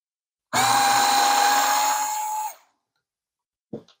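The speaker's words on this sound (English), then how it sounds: "Start with the Ryobi. Put the screw in." A Ryobi FVD50K electric screwdriver whirs for about two seconds as it drives a screw, a steady close motor whine that cuts off abruptly, followed by a short click.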